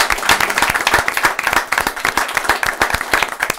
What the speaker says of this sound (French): je vais vous demander d'applaudir Djidjiko et Elisa R, s'il vous plaît.